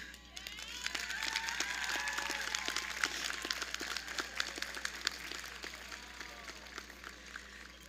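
Graduation ceremony audience applauding families, dense crowd clapping sustained across the whole stretch with sharp individual claps standing out, fairly close and loud, no speech on top.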